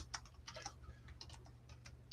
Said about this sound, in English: I'm going to type it in just because.